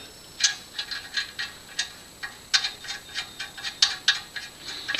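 A ratchet tightens a tie rod end nut on a Jaguar XK8, a quick run of bright metallic clicks in uneven bursts, close up and without talk.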